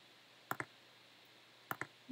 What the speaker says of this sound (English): I'm going to use my arrow keys to offset it.